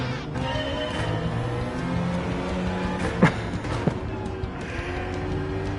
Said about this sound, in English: Listen to this engine note.